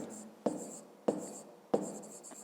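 Pen on paper during a fifth-grade math exercise: three sharp taps or strokes spaced evenly, each followed by soft scratching, faint and close.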